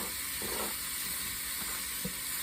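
Rough-chopped onions, about two medium ones, sizzle in a pot for pot roast, a steady close hiss and crackle throughout with a couple of small pops, no talking.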